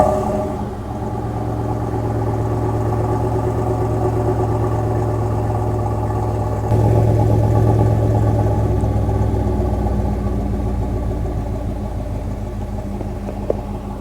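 A Ford 7.3 Godzilla gas engine, started by remote start in freezing cold weather, turns over midway with a sudden surge, then settles into a steady, deep, close idle rumble.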